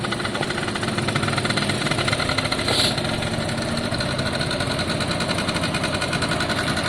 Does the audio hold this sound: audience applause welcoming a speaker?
no